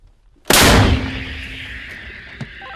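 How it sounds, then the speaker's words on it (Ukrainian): A single loud, sharp artillery gun blast near Pokrovsk, Ukraine, with a heavy low boom, followed by a long rumbling decay that rolls away into the distance. "Готово! Гармата! Постріл!"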